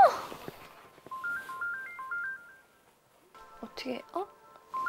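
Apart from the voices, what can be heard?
phone ringing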